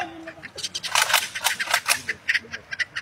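Rifles crack in a rapid, ragged string of sharp reports during a firing drill on shouted command, the shots moderately distant and overlapping for a couple of seconds.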